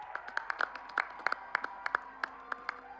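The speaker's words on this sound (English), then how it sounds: "Round of applause, everybody," Scattered clapping from an audience greets an award winner, a thin, moderate round of claps with uneven rhythm, no voices over it.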